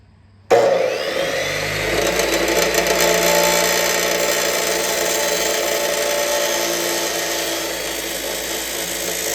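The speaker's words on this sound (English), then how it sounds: "I got my angle set on my chop saw here. We'll make this first notch out." A chop saw notches a metal tube, starting abruptly and holding a loud, continuous close whine and grind with a ringing metallic edge for several seconds.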